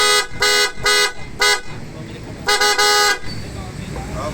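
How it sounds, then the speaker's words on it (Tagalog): Loud horn on a Honda ADV160 scooter blares in several sharp, sustained blasts, three quick toots followed by a longer double honk, close and dominant over low background noise. "gagawin nating loud horn."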